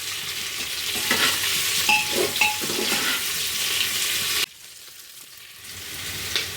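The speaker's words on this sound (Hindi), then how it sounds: "प्याज को भी हमें हल्का सा ट्रांसलूसेंट होने तक भूनना है। तो इसे भी लगातार चलाते हुए भून लेते हैं।" Onions stirred and fried in a pan for a spiced soya-potato dish give a steady, close sizzle with spoon scrapes. The sizzle drops off sharply partway through, then builds back softly.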